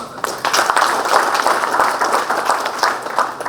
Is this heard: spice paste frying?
no